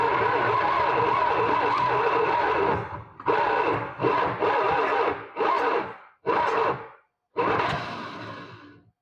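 A Plymouth Roadrunner engine cranks and tries to catch, a loud continuous churning burst for about three seconds followed by several short, choppy cranking bursts separated by brief pauses, recorded up close.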